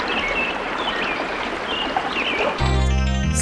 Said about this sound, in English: Suddenly, a rush of the stream came close to her